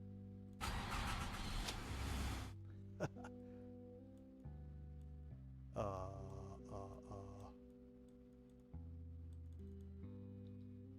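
Tow truck engine in a Roblox game cranks and catches, with bursts of noisy revving, steady low engine hum in between and light keyboard clicks, no talk.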